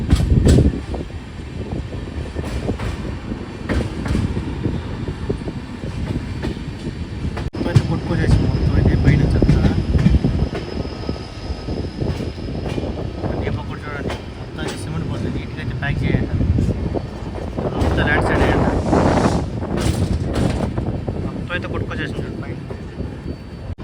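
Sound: Karwar Express train running, Mangaluru to Yesvantpur

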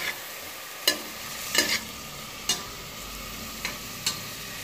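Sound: onions frying in a pot

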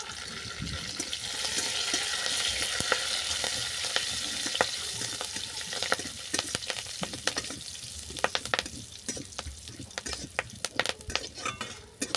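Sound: ingredients frying in a pan

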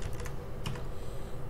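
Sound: typing PHP code on a computer keyboard

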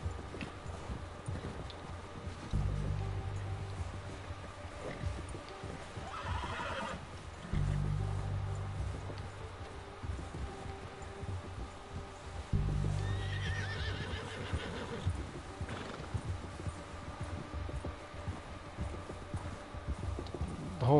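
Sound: horse neighing and hooves on snow

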